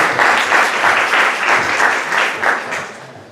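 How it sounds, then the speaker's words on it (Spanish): Steady crowd applause welcoming a speaker at a medical session, dense overlapping claps sustained at an even loudness for a few seconds with no talking. "Démosle un fuerte aplauso como bienvenida a nuestra profesora"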